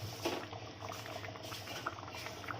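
Chicken gravy simmering in a pot in a Tamil home kitchen, giving a steady low bubbling and soft liquid patter with small pops, moderately near and alone.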